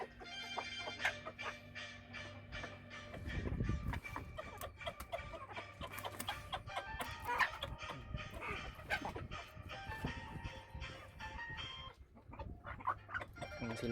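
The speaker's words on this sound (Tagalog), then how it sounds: "Ito yung aking mga manok." Chickens on a farm cluck and chatter continuously at close range during a morning feeding, with overlapping calls and occasional louder squawks throughout.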